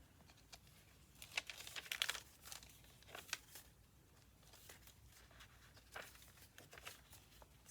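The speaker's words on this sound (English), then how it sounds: "Here's another CD envelope." A paper CD envelope in a handmade journal is handled, with soft crinkling and rustling, a denser flurry near the start, then sparser faint rustles and taps, close and quiet.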